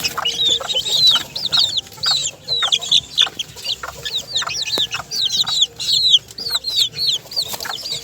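Small Sebright chicks cluck and cheep in a rapid, overlapping stream, close and lively, with the chirps running continuously from start to finish.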